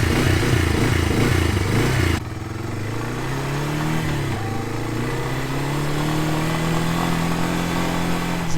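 A rough tractor engine rumbles and revs loudly for a couple of seconds as it is driven out of a barn, then settles into a steady, lower idling drone as it keeps running nearby.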